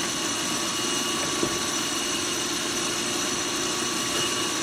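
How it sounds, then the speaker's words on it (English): A wood lathe runs with a steady whirring drone while a parting tool cuts off waste wood from a bottle stopper blank, a continuous close, even grinding hiss. "The parting tool, faster way to just cut off my waste."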